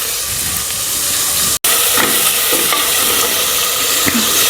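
Onion and tomato fry loudly in a pan for methi palav, a dense, steady hiss and sizzle with a brief dropout near the middle and faint stirring scrapes, close up and without speech.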